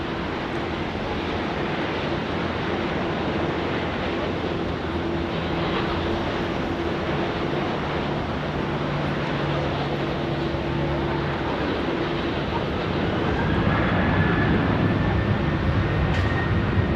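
Loud, continuous engine roar of a Velocity airliner taking off from Sydney Airport runway 16 right, a steady broadband rumble with droning engine tones that swells slightly toward the end.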